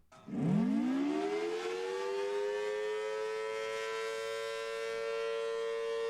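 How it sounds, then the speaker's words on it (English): A dual-tone civil defense tornado siren winds up from a low growl into a sustained, steady two-note wail that holds for several seconds with no talking. "Here's what a dual tone siren sounds like."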